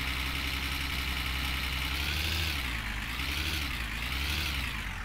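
A van engine in the My Summer Car video game runs steadily and loudly throughout, a continuous low mechanical drone with rough knocking texture and slight swells in pitch, with no talking over it.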